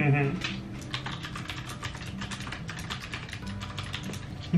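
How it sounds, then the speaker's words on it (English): Rapid, steady keystrokes on a computer keyboard as a quick message is typed, close and fairly loud, running evenly throughout with soft background noise and no talking. "Okay, I'll type a quick message."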